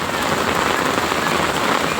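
Heavy rain pours down in a dense, steady roar of drops hitting surfaces, loud and unbroken throughout, with no voices over it.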